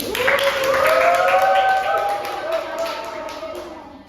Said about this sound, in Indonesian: Beri tepuk tangan buat kelompok Hudi.